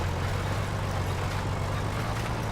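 A tractor in the farming game Farming Simulator 19 drives along with a steady, low engine drone and a constant rumble, unbroken throughout and with no speech.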